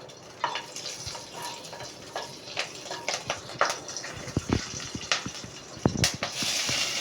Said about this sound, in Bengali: কড়াই তেল দিয়েছি, তেলটা গরম হলে একটা কাঁচা লঙ্কা দিয়ে দিলাম।